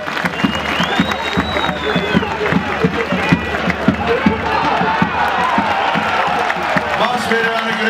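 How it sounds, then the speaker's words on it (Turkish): Crowd at an outdoor oil wrestling match in Dalyan applauds both wrestlers, steady clapping and cheering that carries on under an announcer's voice. "Her iki pehlivanı coşkuyla alkışlıyoruz."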